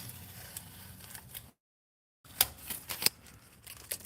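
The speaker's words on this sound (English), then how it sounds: "Take the tape off of here." Masking tape being peeled off a freshly painted car bumper, a few close, crisp tearing and crackling bursts after a brief dropout, with no talking.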